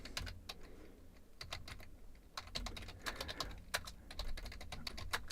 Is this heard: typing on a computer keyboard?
yes